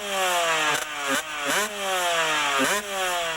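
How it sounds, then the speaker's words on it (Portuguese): A motorcycle engine revs repeatedly while warming up, its pitch rising and dipping in several loud, close blips with a brief drop between revs. "aqueça sua moto deste jeito"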